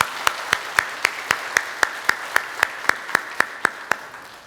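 A church congregation clapping to welcome a visiting pastor during a Sunday service, about fifteen crisp, evenly spaced claps in a steady rhythm, fairly loud in a reverberant hall.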